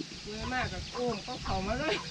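Farm chickens cluck close by outdoors near rice fields, a rapid series of rising, chattering calls in several bursts that carry over soft background noise.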